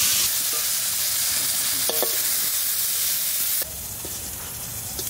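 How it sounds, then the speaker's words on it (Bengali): Potato pieces frying in oil in a pan, a steady close sizzle with occasional stirring clinks and a brief scrape, the sizzle growing brighter and louder toward the end, no voices. "এবার আলুটা ভেজে নেব"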